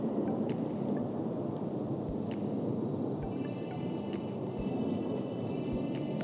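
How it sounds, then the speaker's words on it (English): A Eurofighter jet looping overhead sends a broad, steady distant roar over a forest, filling the air as a continuous low rumble with no voices. "there's a Eurofighter like doing loops over my head"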